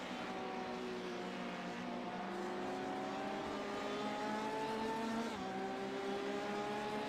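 LMP race cars from the iRacing simulator passing during a 24-hour race at Watkins Glen, engine notes whining and rising in pitch, then dropping sharply as one car shifts gear mid-pass.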